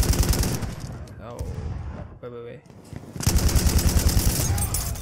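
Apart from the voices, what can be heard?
gunfire in video game Battlefield 1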